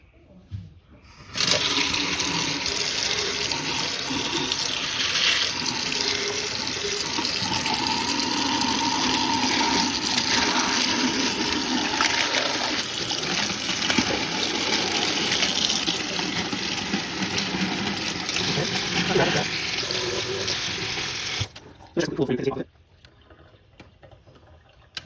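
Water from a tap runs over a scrunchy USB to Lightning cable, a loud steady hissing splash lasting about twenty seconds before stopping abruptly, followed by faint drips and handling.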